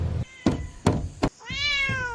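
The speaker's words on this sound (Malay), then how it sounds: "Kucing tu lagi garang weh." A cat gives one clear, drawn-out meow after three dull knocks or thunks. The sounds are close and fairly quiet.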